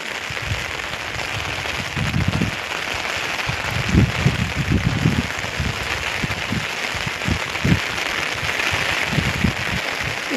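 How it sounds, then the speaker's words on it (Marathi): Heavy rain falls over waterlogged farm fields in Pune district, a steady broadband hiss with soft low thumps and patters scattered through it, no voices. "इतका पाऊस चाललाय आज पुणे जिल्ह्यात."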